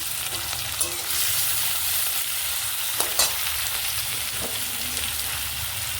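Steady, dense sizzling of chopped onions frying in hot oil, with a few soft clinks of a utensil against the pan.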